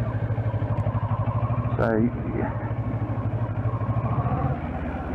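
Kawasaki Versys 650 motorcycle engine running close by with a steady, even thrum, while someone talks over it briefly.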